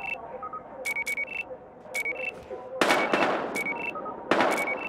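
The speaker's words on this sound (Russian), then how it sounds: "Здесь стрельба, мы тоже вступаем в бой." Gunfire in the video game Battlefield Hardline: several loud bursts and single shots fire in irregular clusters over a steady background hum of game ambience, mixed with short electronic beeping tones.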